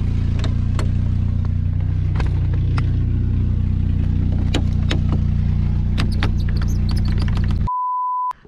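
A Chevrolet Blazer converted for funeral use idles steadily with a deep, constant engine and exhaust drone, a few faint clicks over it, ending in a short electronic beep as the engine cuts off.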